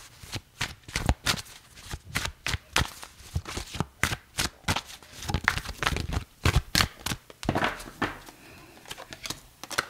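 Tarot cards being shuffled by hand, a rapid, irregular run of crisp riffling bursts and slaps, close and clear, filling the whole stretch with brief pauses between handfuls.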